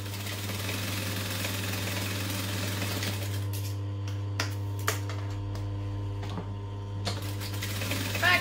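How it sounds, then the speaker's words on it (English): A sewing machine chain-stitches fabric pieces for a backpack, running in a steady whirring hum with a low motor drone, broken by brief clicks and knocks in the second half. "I'm going to chain stitch them, so I'm going to do one and then just push in the other one."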